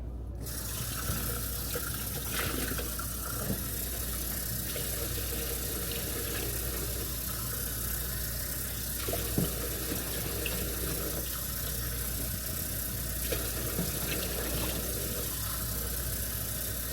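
Water streams steadily into a pot for a peach pie filling, making a continuous rushing, splashing pour that lasts the whole stretch over a low background hum, with no voices.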